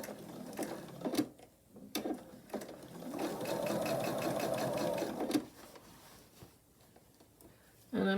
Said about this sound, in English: these long seams I tend to sew pretty slowly